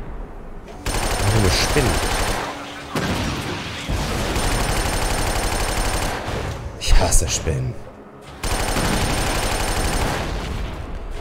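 Sustained weapon fire in Killzone 2, long bursts of rapid shots broken by short pauses, loud and close, with a voice speaking between the bursts.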